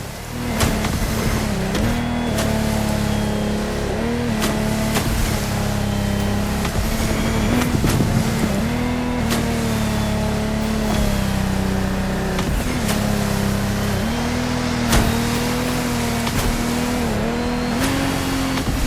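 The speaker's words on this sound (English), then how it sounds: "including the incredible Lamborghini Technomar. You heard it, a boat made by Lamborghini" Lamborghini Technomar racing boat in The Crew Motorfest, a loud continuous engine drone with rising and falling pitch as the throttle shifts, steady and close for the whole stretch without speech.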